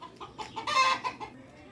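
Rhode Island Red chickens on a free-range farm clucking near at hand, a short run of quick clucks that rises into one louder, drawn-out squawk before settling back into softer clucks.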